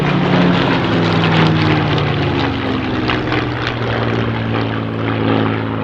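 Spitfire aircraft at an air show, its piston engine producing a loud, steady propeller drone that holds close and continuous throughout with a low throbbing hum, alone with no voices.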